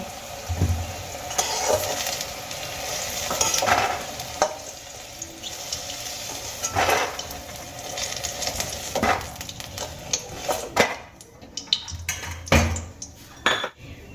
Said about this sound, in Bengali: বেগুনগুলোকে আমি একটা পাত্রে তুলে নেব